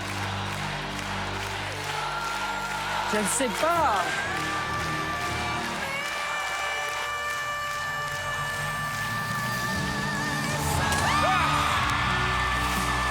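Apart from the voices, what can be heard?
studio crowd cheering and applauding for a Golden Buzzer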